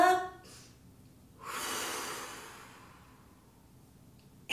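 One slow, deep breath comes in and then goes out, soft and close, with a brief sharp inhale at the very end.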